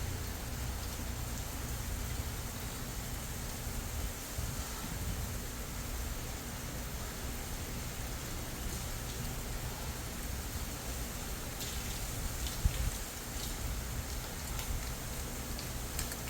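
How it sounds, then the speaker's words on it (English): Heavy rain in Florida blowing in sideways, a steady dense hiss of downpour with no pauses, broadband and constant throughout, spatters hitting nearby surfaces. "I think the rain's coming in sideways"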